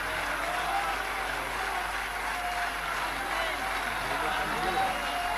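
An audience at an Urdu-Hindi poetry recitation applauds steadily, a faint, even wash of clapping from a crowd that carries on without break.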